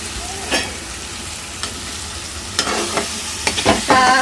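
Eggs are fried and stirred in a pan, a steady sizzle under scattered spatula scrapes and clicks that get busier toward the end, with no talking.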